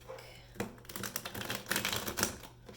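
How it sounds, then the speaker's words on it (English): A quick riffle of tarot cards, a rapid flurry of crisp clicks and flutters building and settling over about three seconds, close and fairly quiet. "the cards want one more shuffle"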